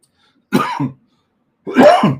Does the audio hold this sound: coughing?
yes